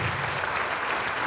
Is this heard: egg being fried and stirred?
no